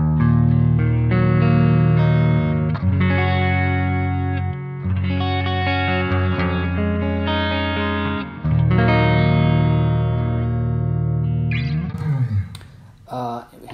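Electric guitar played through a Line 6 Helix LT on a clean tone with a bit of reverb, sustained chords ringing out in a steady strumming pattern, then fading into brief string noise and handling sounds at the end.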